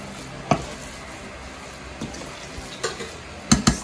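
Pechay and mixed vegetables stirred and fried in a pan, with a low steady sizzle and a few sharp utensil scrapes and knocks, heard alone and fairly near.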